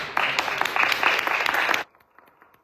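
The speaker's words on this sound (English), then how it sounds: "can we please give a warm round of applause and welcome our panelists" Audience members at a discussion panel applaud to welcome the panelists, a lively burst of clapping that rises quickly, holds for under two seconds, then drops sharply to faint scattered claps.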